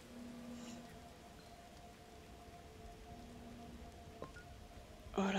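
Steady light rain hisses in the video game Endling, soft and continuous under faint ambient tones, with a sharp brighter sound bursting in at the very end.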